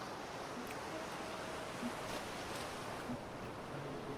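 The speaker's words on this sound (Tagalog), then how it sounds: "Medyo mahangin ngayon." Soft, steady wind noise on a beach at Calatagan, Batangas, buffeting the microphone, faint and continuous, with a distant wash of surf beneath and no talking.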